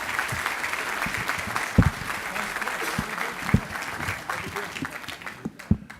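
Audience applause at a cancer center ribbon-cutting ceremony, following a speaker's remarks: sustained crowd clapping close and loud, with a few sharper individual claps standing out and tapering near the end.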